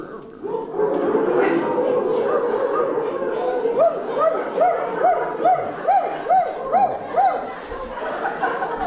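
Several men in a comedy show imitate a pack of barking dogs, a rapid run of yapping barks and yelps from about four seconds on, over a dense murmur of voices and laughter from the crowd.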